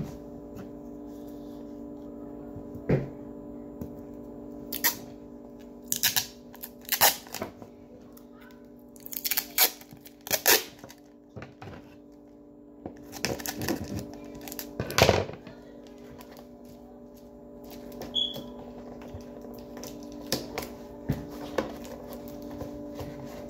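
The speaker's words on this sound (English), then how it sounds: "So I'm gonna just tape the ends down first." Tape being pulled and pressed onto the ends of a cardboard cereal box, heard as irregular close crackles, rips and taps over a steady low hum, with no talking.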